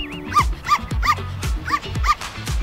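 A small dog gives a run of five sharp yips and barks, evenly spaced and close, with a brief high electronic tone at the start.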